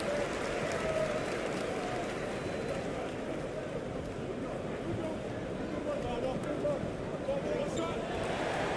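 A home crowd cheers after a win in a PBA 2K basketball video game, a dense, steady roar of applause and noise held at an even level throughout, with no clear breaks.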